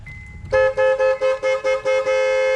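A 7th-generation Honda Accord horn, newly wired to a button, gives six loud, close honks in a quick rhythm and then one sustained blast.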